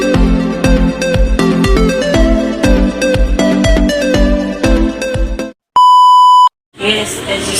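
A notification bell sound effect in a Filipino cooking channel's intro: upbeat music with a steady beat cuts off, then a single loud sustained electronic tone rings alone for under a second.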